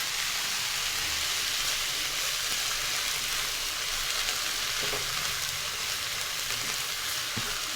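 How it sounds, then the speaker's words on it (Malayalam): Chopped tomato and turmeric sizzle steadily in a hot pan, a continuous dense crackle with faint stirring scrapes, no talking. "ഇത് നമുക്ക് നന്നായിട്ടൊന്ന് വഴറ്റിയെടുക്കണം."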